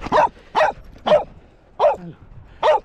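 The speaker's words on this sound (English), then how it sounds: "Why is your brother barking at us?" A dog barks five times in a steady, evenly spaced series, each bark loud and close, heard during a dog walk with no talk over it.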